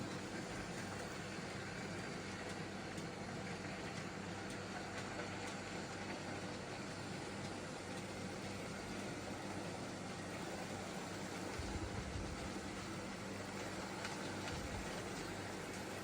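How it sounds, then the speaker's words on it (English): An Airfix Midland 4F model locomotive pulls a short rake of Hornby coke wagons and a brake van, making a faint, steady rumble that runs continuously. "There comes the Midland 4F by Airfix with a little rake of Hornby 1979 Coke wagons"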